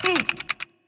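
A quick run of about five or six crisp typewriter key strikes, close and clear, follows a short sliding vocal sound and ends in silence.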